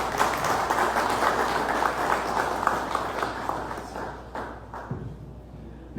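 Audience at a French-language talk on insecurity in Haiti applauding again, a dense, continuous wash of many hands clapping, fairly loud and steady, thinning slightly near the end.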